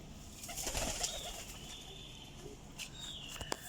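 Champion flying pigeons coo faintly in a close, quiet setting, with light fluttering and small chirps scattered through the short stretch.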